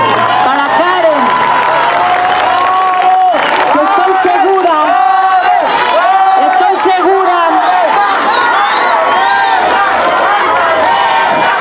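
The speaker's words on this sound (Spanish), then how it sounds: "Un aplauso grande para Karen." Crowd cheering and whooping at a neighborhood meeting in Iztapalapa, loud shouting voices and cheers with clapping underneath, sustained and close throughout.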